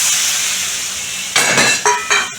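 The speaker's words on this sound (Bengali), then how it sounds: "এবার আমি সেই সবজিগুলো দিয়ে দেবো সবজিগুলো দিলাম" Chopped vegetables and pumpkin greens go into a hot frying pan: a steady close sizzle, then a burst of louder frying with several scraping, clattering stirs of a utensil against the pan.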